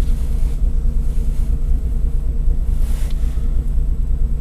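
A car engine idles after a cold start in freezing below-zero temperatures, a steady low rumble close to the microphone with faint wind noise and no voices.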